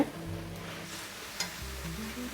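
Soybean chunks being sautéed dry in a pan, giving a continuous moderate sizzle with a few soft stirring scrapes, close by and without speech.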